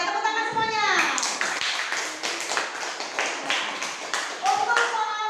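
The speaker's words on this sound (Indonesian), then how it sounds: "Ya, tepuk tangan semuanya." Primary school children clapping together in a classroom during a fractions lesson, a rhythmic run of group claps starting after a teacher's voice, with children's voices and talk over and around the clapping.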